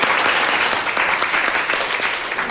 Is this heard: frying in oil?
no